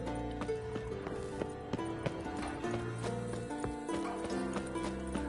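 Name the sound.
horse hooves in The Witcher 3 video game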